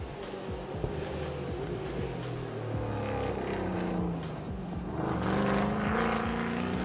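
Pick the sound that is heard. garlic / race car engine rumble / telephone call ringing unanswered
race car engine rumble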